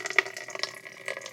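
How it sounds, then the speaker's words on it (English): Liquid photographic developer poured into a container during film developing, a light splashing, trickling stream with small bubbly spikes, close and fairly quiet. "Let me go ahead and start pouring in the developer first"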